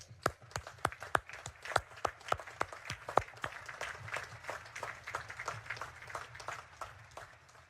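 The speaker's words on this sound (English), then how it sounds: "And let's give them a third round of applause" Applause at a Naval Academy commencement ceremony, a scattered round of clapping from a large audience, at first sparse with sharp individual claps and then filling in to a denser, moderately distant patter.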